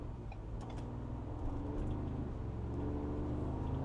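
A Ford Bronco drives along with a steady engine hum from inside the cabin, the pitch rising and then dropping as it shifts gears, continuous and moderately loud with no talking.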